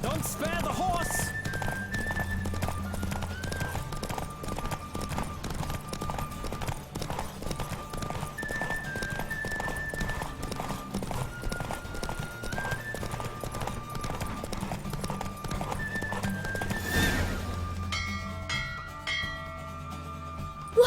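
A galloping horse in a race in the video game The Witcher 3 pounds out a steady, rhythmic hoofbeat throughout, mixed with bright bell-like music and a swelling accent near the end.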